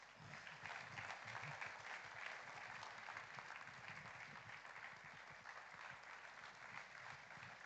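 Steady, sustained applause from a seated audience at a ceremony honoring the engineering firm that fabricated and installed air storage vessels and suction pipework, dense and even throughout.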